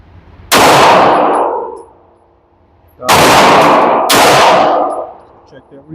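Three loud, sharp shots from a Sig P320 Spectre Comp pistol fired at a steel target, each with a ringing clang and a decaying tail. A single shot comes first, then a pause, then two shots in quick succession.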